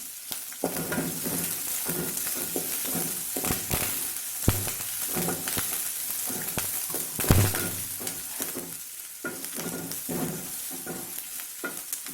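Curry leaves dropped into hot oil with softened onions over a medium flame, crackling and sizzling close by while a spoon stirs and scrapes with a few sharper knocks.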